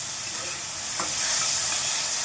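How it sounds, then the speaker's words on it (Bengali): Ginger frying in oil in a pan for a spinach dish, a steady close sizzling hiss with a brief crackle partway through and no talk. "এইবারে আমি এর মধ্যে আগে আদাটা দিয়ে দেবো, আদাটা দিয়ে দিলাম, আদাটা ভেজে নেওয়ার জন্য।"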